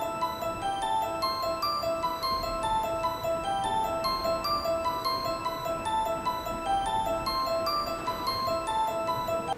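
Music plays as a steady looping keyboard melody of bright, repeating bell-like notes over a sustained bed, continuous and evenly loud with no voices.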